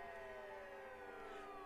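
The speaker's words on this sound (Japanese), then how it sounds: "あ、パトカーが来たみたいだ。" A police car siren sounds in a Japanese horror video game, a faint, sustained wailing tone with slowly gliding pitch and no talk over it.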